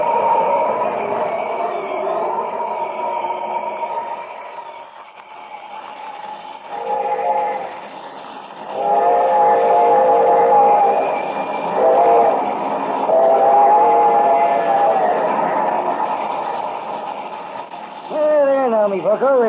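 A train rolls past as a radio drama sound effect near a bridge, a steady rumbling clatter that swells and fades over a long stretch, with voices and music cues intermittently above it and a rising whistle-like tone at the end.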